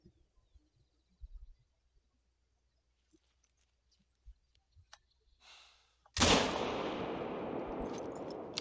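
Hunting rifle shot in the game Hunter Call of the Wild at Silver Ridge Peaks, a single sharp blast after near silence with a few faint clicks, followed by a long loud rumbling echo and wash of noise.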